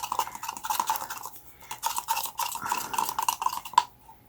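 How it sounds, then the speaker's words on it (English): A stir stick drags and scrubs thick paint across watercolor paper in rapid, scratchy back-and-forth strokes, close up, with a short pause midway and a final sharp scrape. "I have a stir stick here also."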